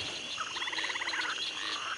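Toads croaking from a swamp hag animated prop: rapid, evenly pulsed croaking trills repeat steadily at close range against a constant hissing background, with no talking.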